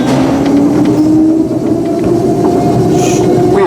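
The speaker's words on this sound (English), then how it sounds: "not to lean on the sides of the train, as this may cause it to stop suddenly" A small ride-on passenger train at the London Postal Museum rumbles steadily along its track with a rising mechanical whine and faint rattling, loud and close throughout.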